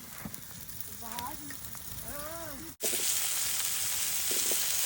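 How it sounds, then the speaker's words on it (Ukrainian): Continuous sizzle of lard frying in a pan outdoors in a Kyiv-region forest, a soft crackling hiss under a couple of brief voiced sounds, then growing louder and brighter after a short cut. "сало смажиться, будемо додавати картопельку"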